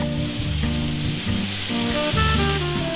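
Spicy pufferfish bulgogi with plenty of bean sprouts stir-frying in red sauce, a steady close sizzle running throughout with a musical tune playing over it.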